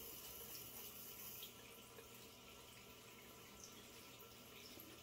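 Tap water runs steadily into a bathroom sink during wet-shave face prep, a continuous, even rush of splashing water close by with no voices over it.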